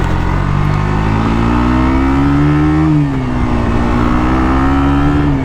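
A KTM Duke 125 motorcycle engine drones loudly and steadily close by, its pitch climbing slowly, dipping briefly midway, then rising again as the bike accelerates.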